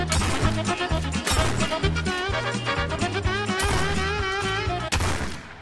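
Rapid gunfire bursts from the retro first-person shooter POSTAL: Brain Damaged, loud repeated shots and booms layered over a pounding game music track.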